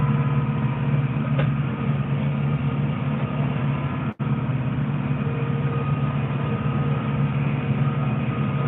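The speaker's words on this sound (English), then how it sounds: "Come on, tractor." A farm tractor engine labors steadily while working a loader bucket, a continuous loud low rumble with one brief dropout midway and no talking.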